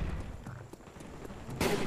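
A single sharp, loud sniper rifle shot cracks out near the end of a Black Ops first-person shooter match on PC, rising briefly above the steady game noise.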